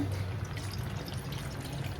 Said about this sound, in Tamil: கடாய் ஹீட் பண்ணி தண்ணி ஊற்றிக்கோங்க